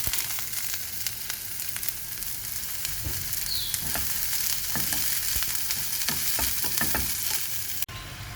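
Broccoli frying in a hot pan: a steady, soft sizzle with occasional stirring scrapes and light clinks, fairly quiet and close, with no talking.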